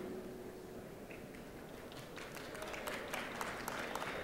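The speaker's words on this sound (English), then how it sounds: "That's all right, applause as much as you want." Commencement crowd applause at a university graduation ceremony, a steady wash of many hands clapping at moderate distance, swelling slightly toward the end as names are read.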